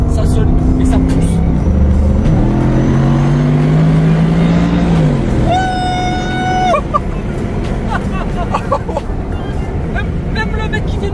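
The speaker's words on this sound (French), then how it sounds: "Et là, je vais mettre pied au plancher, vous allez voir. Ça sonne et ça pousse." A Mercedes SLR with a supercharged engine pulls hard at full throttle, its rising drone climbing in pitch before a sharp whine near the middle, loud and close, with voices chattering over and around it.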